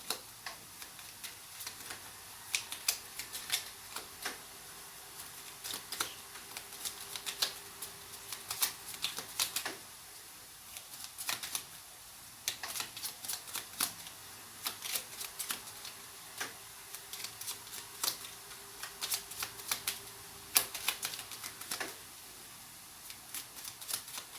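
Deck of oracle cards being shuffled and cut, rapid bursts of crisp paper ticks and riffles in irregular clusters with short pauses, close and fairly quiet.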